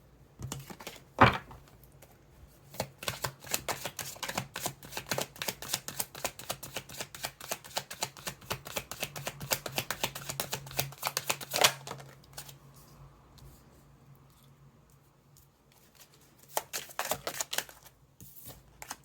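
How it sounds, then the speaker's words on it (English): Tarot cards shuffled over and over, a dense run of crisp flicking and riffling for about twelve seconds, a lull, then another brief burst. "Let's shuffle some more."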